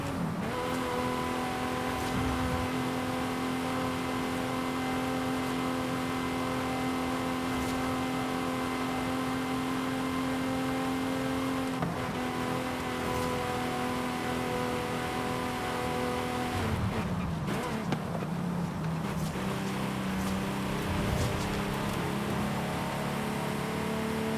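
A Ferrari in a racing video game drives with a steady, loud engine drone that holds one pitch, then briefly drops and shifts to a lower tone near the end.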